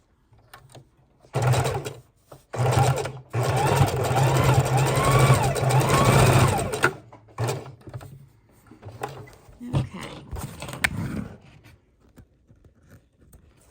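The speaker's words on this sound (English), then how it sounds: "So let's come back under the sewing machine." A domestic sewing machine stitches through a small junk journal made from a playing-card box, running in several steady bursts of rapid mechanical whirring with brief pauses, then stopping for quieter handling sounds near the end.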